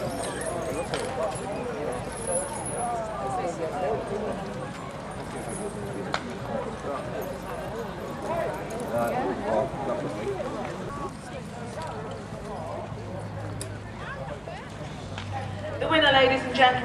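Rapid clopping hooves from a six-horse Shire team mingle with crowd murmur and a distant announcer's voice at an outdoor county show.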